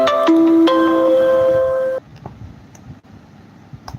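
A phone ringtone plays loud and close: a bright melodic electronic tone for about two seconds that cuts off abruptly, followed by quiet room noise with faint clicks.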